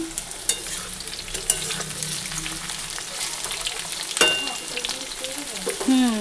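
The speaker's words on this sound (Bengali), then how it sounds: "কাঁকরোল ভাজা বসিয়ে দিয়েছি, এখানে কড়াই বসিয়ে দিয়েছি।" Teasel gourd sizzles as it fries in oil in a wok on a home kitchen stove, giving a steady crackling hiss with a few sharp clinks of stirring.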